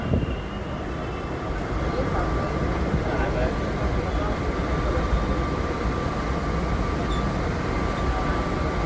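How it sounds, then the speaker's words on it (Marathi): A Churchgate–Virar fast local train runs at speed alongside the Karnavati Express, giving a steady, loud rumble and rattle of wheels on track that holds without a break. "Parallel overtaking to Karnavati express"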